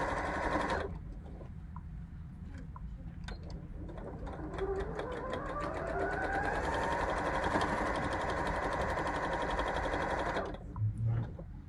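A sewing machine stitches quilt pieces fused to a fusible grid, running steadily and loudly for about ten seconds with a fast, even whir before stopping.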